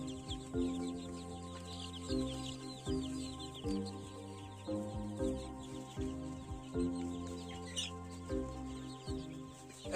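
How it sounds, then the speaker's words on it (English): Three-week-old chickens on a farm cluck in repeated short bursts, a flock murmuring and calling close by, with a faint chirp layered over a low background hum. "This is the third week chickens."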